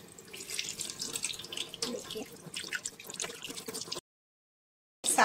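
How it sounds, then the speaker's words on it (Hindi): Fish being washed under a running tap in a kitchen sink, with uneven splashing and trickling water close by, then a brief silence before the water starts again. "मछली को हम अच्छा से धो के ले लिए हैं।"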